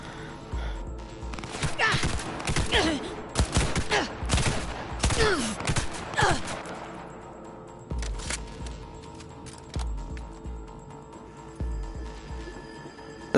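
Video game gunfire in bursts, with dense rapid shots clustered early, then scattered single reports and a low rumble through the rest.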